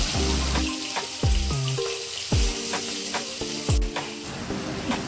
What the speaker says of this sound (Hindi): एकटुखानी तेल देव, माछगुलो भालोभाबे भेजे नेब।